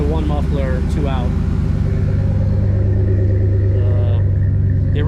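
A RAM Rebel pickup's engine rumbles steadily through a MagnaFlow exhaust with a 2-into-1 muffler and dual outlets, a loud continuous low drone with someone talking over it.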